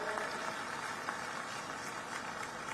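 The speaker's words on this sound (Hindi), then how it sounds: "एक बार जोरदार ताली बजा के उनका स्वागत करें" Dense, steady applause from a large crowd at an Indian National Congress rally welcoming Priyanka Gandhi in Bhilai, sustained and even throughout with no voices standing out.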